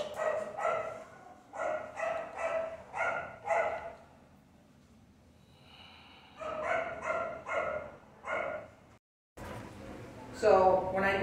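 A dog barks nearby in rapid volleys of sharp, loud barks. The barking stops for a couple of seconds, then starts again, with voices heard around it.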